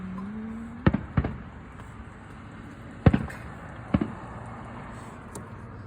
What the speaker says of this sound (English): Green fireworks.